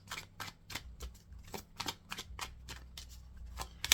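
Tarot cards are handled and shuffled up close in quick, soft riffling bursts, a dozen or so papery flicks in an uneven rhythm in a quiet room.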